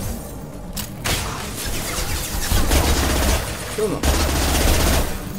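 Sustained automatic gunfire from a hard-recoiling weapon in the Mass Effect 2 video game, loud rapid bursts with brief pauses and booming impacts, while someone briefly speaks over it.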